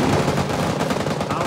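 Gunfire in the Vietnam-era shooter Rising Storm 2, a brief dense stretch of rapid shots and battle noise, loud and continuous.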